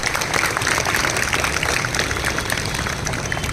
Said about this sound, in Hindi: एक बार जोरदार तालियां लक्ष्मी और आकांक्षा